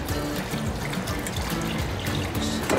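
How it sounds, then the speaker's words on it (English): About two cups of water pour into a sauce pot holding leftover honey for mead, a steady close splashing trickle that runs unbroken throughout with no talk. "we're going to take about 2 more cups of water. We're going to add it into our"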